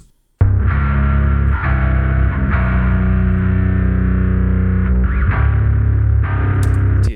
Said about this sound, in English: They got the Abbey Road RS124 on their bass guitar, and they love the way it sounds